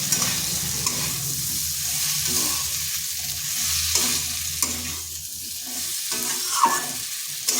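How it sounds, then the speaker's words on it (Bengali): Pumpkin sautéing with spices and kasuri methi in a pan, a loud continuous sizzle with scraping strokes of a spatula stirring through it, close and without talk. "এটাকে বেশ কিছুক্ষণ সময় ধরে এভাবে কষতে হবে।"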